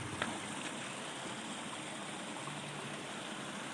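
A natural spring-fed mountain stream in Azad Kashmir flows with a steady, close rushing and trickling wash of water that stays even and unbroken throughout, with no voices.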